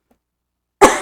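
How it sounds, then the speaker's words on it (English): A single sharp cough bursts out close to the microphone after a near-silent stretch, with a brief rough tail as it fades. "Don't cough into the mic."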